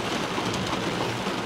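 Steady rain falls outside, a dense, even hiss of drops on surfaces with a faint low rumble beneath, continuous and fairly close, with no voices.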